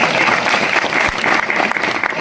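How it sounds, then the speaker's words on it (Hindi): A crowd claps loudly and steadily at a Hindu religious discourse (satsang and Bhagavat katha), with dense applause filling the whole stretch and faint voices underneath. "ताली में कंजूसी मत करो।"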